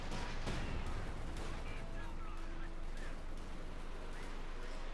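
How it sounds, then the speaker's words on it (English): Panzerwerfer rocket barrage in Company of Heroes 2 crashes down as a dense wall of loud battlefield explosions and gunfire. Impacts roll on continuously through the whole stretch, while someone commentates over the din. "Panzerwerfer barrage off."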